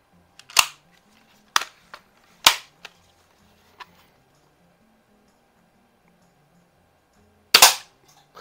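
Winchester 1977XS multi-pump air pistol fired on a single pump, sharp, fairly quiet pops heard a few times, with small clicks of handling between them and near silence otherwise.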